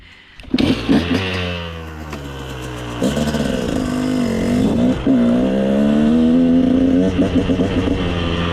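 A motorcycle engine starts up and revs for a wheelie. The pitch rises and falls through several loud, close throttle blips, then holds at a higher sustained drone, with no talking.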